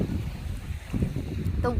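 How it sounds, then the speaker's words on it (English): Steady wind rushes and buffets the microphone at a Jeju Island beach at sunset, a continuous low roar with a faint voice near the end. "It's quite windy"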